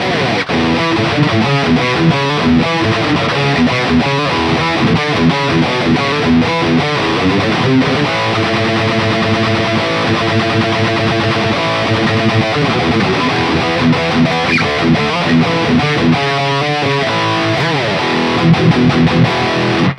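Distorted electric guitar through a Neural DSP Quad Cortex amp modeler on its rhythm tone chugs and rings through steady rhythm chords, loud and dense, with sustained tone throughout and no voices.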